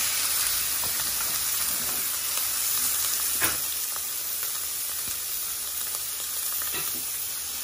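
Veal chops sizzle loudly in a hot frying pan, a dense continuous crackle and hiss up close, broken by a brief clack partway through, with no voices.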